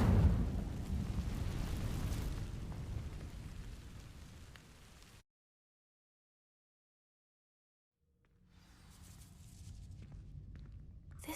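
The Incendio fire spell igniting dry vines in Hogwarts Legacy: a loud, broad whooshing blaze that fades out, a few seconds of silence, then crackling fire noise swelling back up.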